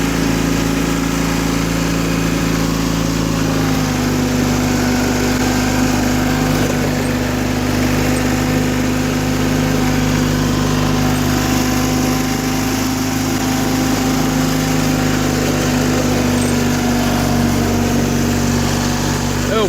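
A 1984 John Deere 316 lawn tractor engine runs steadily close by, a loud continuous drone with a slight lugging dip as its slow governor catches up, with occasional talk underneath.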